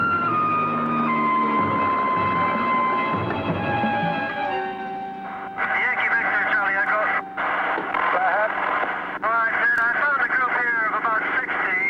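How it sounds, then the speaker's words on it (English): Police-type siren wailing from a helicopter driving elephants across farmland in 1979, a loud steady rising and falling tone over rotor noise that continues through the whole stretch. "Ted Goss has equipped the helicopter with police sirens and a loudspeaker system."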